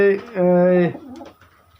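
A pigeon at a pigeon sale gives a short, close, loud coo of two pulses, followed by faint background noise.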